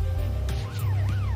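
A wailing police car siren sweeps up and down over a steady low engine rumble, loud and close, with no talking.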